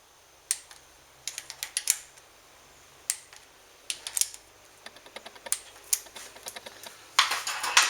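Sharp clicks of a torque wrench tightening the cam cover bolts on a Suzuki V-Strom 1000 motorcycle engine, set to 10 Nm, come close and crisp in uneven short bursts and single ticks with quiet gaps between.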